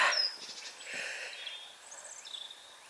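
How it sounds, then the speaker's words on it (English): Small bird singing in a countryside lane near Cheddar Gorge, a few faint, high chirps and short warbling phrases heard from a distance in otherwise quiet air. "Listen to that bird up there."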